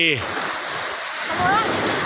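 Sea water rushes and splashes at a beach at Ban Phe in Rayong where a small boy plays in the waves, a steady surf wash with a voice at the start.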